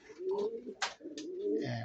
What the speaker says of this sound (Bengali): এটা খুব শখের কবুতর আমার।